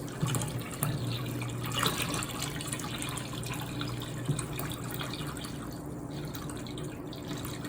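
Water flowing through the flexible tubing of a PC water cooling loop, a continuous close trickling and gurgling with light drips, steady throughout.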